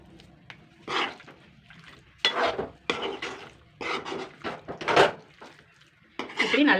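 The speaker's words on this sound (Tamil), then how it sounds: "இந்த மசாலாவில் எல்லாம் நல்லா மிக்ஸ் ஆகி வர மாதிரி நல்லா கிண்டி விட்டுடலாம்" Chicken being stirred through masala in a pan for a chicken roast, with repeated scraping and clinking strokes of a spoon against the pot in uneven bursts, close and moderately loud.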